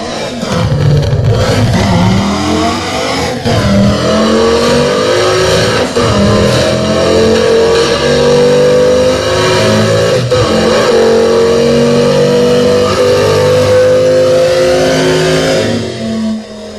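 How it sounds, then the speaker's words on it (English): A Montgomery GT2400, a classic Le Mans style race car, revs its engine hard in repeated loud, growling sweeps that rise and fall over about seventeen seconds, close and with no voices. "So for real raw engine tone, going through all the cars, this Montgomery GT2400, real classic Le Mans style."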